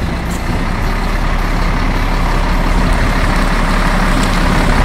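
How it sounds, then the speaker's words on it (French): A coach engine rumbles loudly and steadily close by as the driver moves and manoeuvres the vehicle, a dense continuous drone with no talk. "Vous allez voir un mouvement, comment un chauffeur déplace son car."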